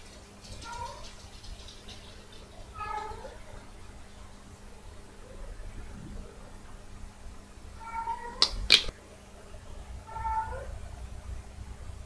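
A cat in heat caterwauls in repeated drawn-out yowling calls spread across several seconds, with a couple of sharp clatters in the middle and a low household hum underneath.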